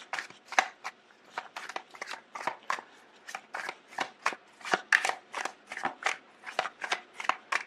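Tarot cards are shuffled by hand in a steady run of quick, crisp riffling bursts, close and fairly quiet, with only brief soft gaps between them.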